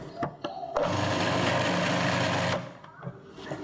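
A blender roughly grinding Balinese spice paste, a loud steady whirring motor running for about two seconds between short starts and pulses, close up.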